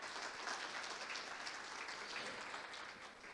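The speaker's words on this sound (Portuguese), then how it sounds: "o nosso presidente da CEBIC, Renato Correia, a quem eu peço uma salva de palmas." Applause from an audience at a conference panel session, a steady dense wash of clapping lasting throughout and easing slightly at the end.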